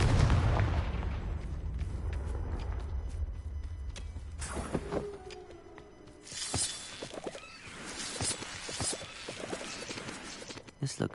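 Confringo fire spell blasts in Hogwarts Legacy, a loud booming explosion at the start followed by scattered crackling impacts and sharp bursts through the rest of the clip.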